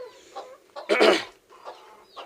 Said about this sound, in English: These are kienyeji chickens.